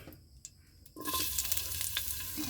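Kinhason seashells sautéing with ginger in a hot pan: quiet stirring scrapes at first, then a loud, steady sizzle that swells in and holds to the end, with a few clicks of shells and utensil.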